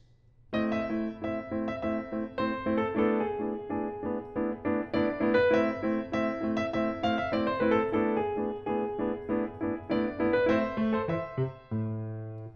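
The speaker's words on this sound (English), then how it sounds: "Appoggiaturas are long, expressive, non-chord tones that resolve." A piano plays a flowing melodic passage with chords, appoggiaturas landing on the beat and resolving, steady and clear without any voices.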